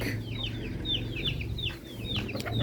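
Chickens cluck in a short flurry of repeated calls at a poultry yard, close and steady over a low background hum.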